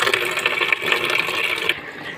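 Water from a tap pours steadily into a bucket meant for goats, giving a bright, continuous splashing rush that stops abruptly near the end.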